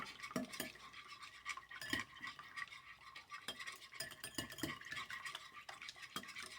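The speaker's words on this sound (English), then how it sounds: "I whisk the eggs together first." Eggs being whisked in a bowl, quick rhythmic metallic taps and scrapes close up, soft and continuous with no talk.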